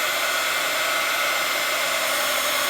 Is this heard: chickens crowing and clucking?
no